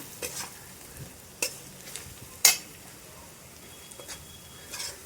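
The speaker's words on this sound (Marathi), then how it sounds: "थोडा कांदा लसूण मसाला तेलावर थोडा परतून घेऊया" Onion, garlic and masala frying in oil in a pan give a quiet sizzle, broken by several sharp spoon scrapes and clinks from stirring, with one loud clatter near the middle.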